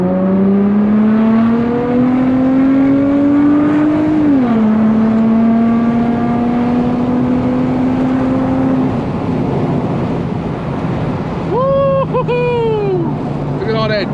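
An Infiniti G35 with an added intake pulls hard in manual mode with no traction, its engine note climbing loud and close, dipping at a gear change, then revving on before a few brief sharp chirps near the end.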